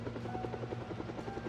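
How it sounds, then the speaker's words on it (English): A police surveillance helicopter passes overhead with a steady rapid rotor chop over a constant low drone, moderately loud and continuous, heard from a vehicle on the road with no talk. "the helicopter is going on"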